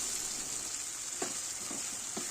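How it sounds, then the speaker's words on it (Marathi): Ginger-garlic paste sizzles faintly in a pan as it is sautéed, a steady hiss broken by a few soft stirring knocks near the end. "अद्रक लसूणचा कच्चापणा जाईपर्यंत आपल्याला हे छानपैकी परतून घ्यायचं आहे"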